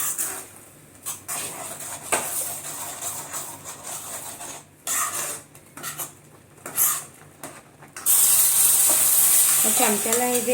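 Spoon stirring sheer khurma with caramel in a pan, clinking and scraping against metal in irregular bursts with a soft sizzle, then a louder bright hiss near the end.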